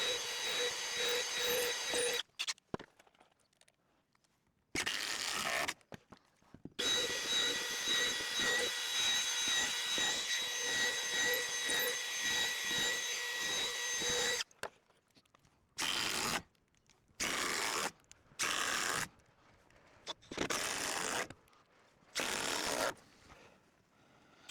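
Cordless power tool driving screws into timber on a sagging verandah of a century-old Queensland house, a series of sustained whirring bursts, several long runs early then short repeated bursts with silent gaps, close and fairly loud, no talk.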